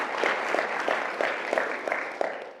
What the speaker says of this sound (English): that's a great cheer.